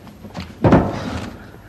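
A household door thuds open once at close range in a Hindi family sitcom scene, a short wooden knock of movement amid a quiet room.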